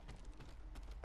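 Rapid clip-clop of horse hooves at a steady gallop in the video game Ghost of Tsushima, fairly loud and continuous, with a dense low rumble underneath.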